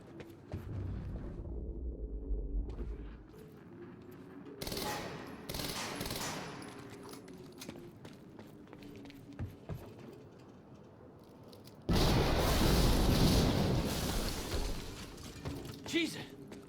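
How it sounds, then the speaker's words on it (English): An in-game explosion from the video game Quantum Break: crackling, gunfire-like bursts and a sharp blast partway through, then a loud, sustained roaring boom near the end over a busy background of game noise, with voices faintly present. "heard an explosion near the harvesting perimeter"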